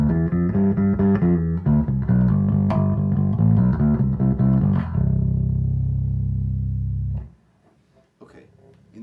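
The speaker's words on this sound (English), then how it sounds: "A little bit of distortion, but not overbearing." A distorted bass guitar through an Acoustic B300C 15-inch bass amp plays a gritty riff, then holds a low fuzzy note that rings out and stops, followed by near silence.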